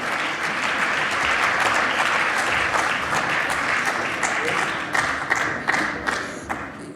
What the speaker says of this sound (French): vous pouvez bien entendu les applaudir de nouveau